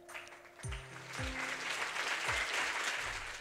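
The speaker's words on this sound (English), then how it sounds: "we're getting a round of applause" Steady crowd applause in the video game Fate/Grand Order swells and holds, with a few low descending synth tones sounding over the clapping.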